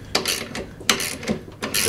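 A ratchet with a 17mm socket tightening the blade bolt on a Hyundai-powered P1PE P5100SPE lawn mower, heard as three or four quick, close ratcheting clicks in bursts.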